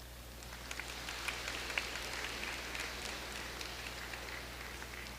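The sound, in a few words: round of applause for graduating students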